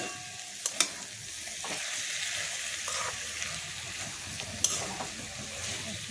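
Spiced soybean curry with yogurt stirred in a pan: continuous frying sizzle underneath, punctuated by a couple of sharp spoon taps and scraping strokes against the pan.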